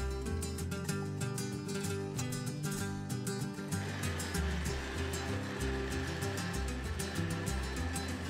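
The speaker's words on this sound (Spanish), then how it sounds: "Y lo licuamos." Kitchen blender whirring as it purees tomato, dried shrimp, onion, garlic, leek and water for a tilapia fish broth, a loud continuous motor drone with a churning, gritty texture that shifts partway through.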